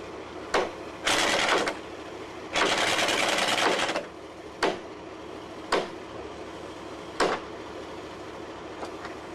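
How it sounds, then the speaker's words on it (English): A pneumatic impact gun tightens railway track bolts, rattling loudly in two sustained bursts, followed by several short sharp hammering blips spaced a second or so apart, close by. "the air supply requirements of the impact gun that is required to do up those bolts"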